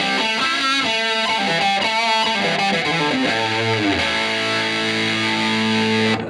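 Electric guitar played through a Boss Nextone Special amplifier on its EL84 power-amp setting with creamy distortion, a fluid overdriven run of notes that ends on long sustained chords before cutting off, loud and alone with no talk.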